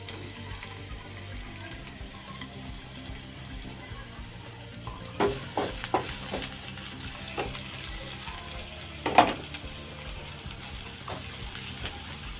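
Chopped onion fries in a pan with a faint, steady sizzle, broken by a few soft clinks and stirring knocks, with no one talking.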